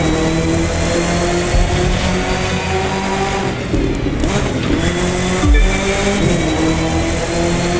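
A race car engine revs hard in The Crew 2 racing game along a coastal strip near Borneo Cove, a steady loud drone with shifting pitch, a brief dip and squeal of tires as it heads into a sharp turn.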